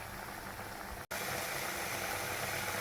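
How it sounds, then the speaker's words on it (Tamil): Sambar with drumstick pieces boiling in a pot, a steady close hiss and bubbling wash broken by one brief dropout, with no talk. "இது நல்லா கொதிச்சுட்டு இருக்கோம்"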